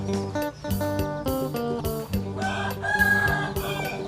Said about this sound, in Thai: ดูไก่ตีกันฮะ